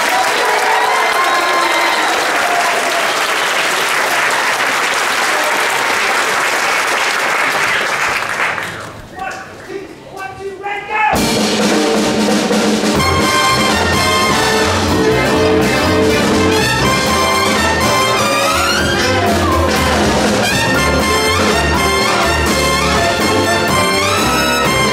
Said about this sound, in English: Give Rich a round of applause.